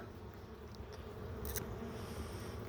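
Honeybees at a hive during a late winter inspection, a steady low insect hum filling the background, fairly faint and continuous with a brief brighter swell midway.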